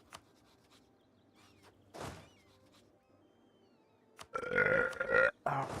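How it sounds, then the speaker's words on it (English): A loud, drawn-out burp forced out to deal with hiccups, rising out of a quiet room with a few faint clicks and a short gulp earlier, then cutting off abruptly. "I gotta like burp really loud to like deal with the hiccups"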